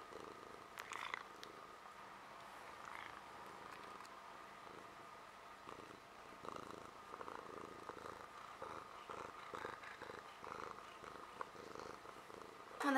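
A cat purrs softly and steadily at close range, a low continuous rumble pulsing in a quiet room with faint background noise and no talk.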